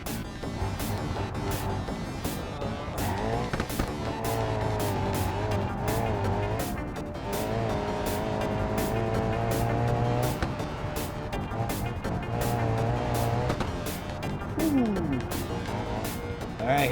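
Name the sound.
BMW 850CSi car driving in video game BeamNG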